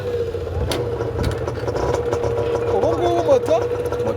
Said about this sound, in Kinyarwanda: Moto yawe yatse.